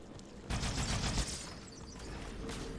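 Gunfire in Halo 2 Anniversary: a burst of rapid shots fires, then fades into quieter scattered fire and mechanical clatter, fairly faint overall.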